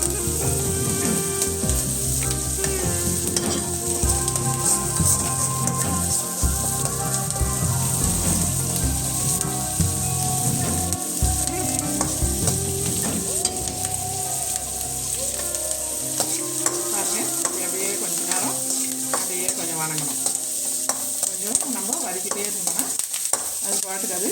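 Fenugreek, garlic and onion sautéing in a pan for a Tamil fish curry, a constant close sizzle and crackle with stirring scrapes throughout, no voices over it.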